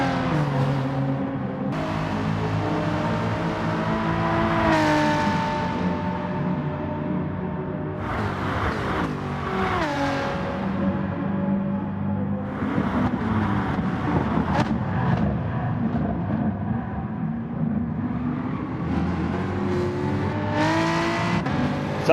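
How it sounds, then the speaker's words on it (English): Race cars roar around a track in Gran Turismo Sport during an FIA online series race, engines whining up and down through gear changes for a continuous, loud stretch with no talking. "So a few other cars going to the pits there."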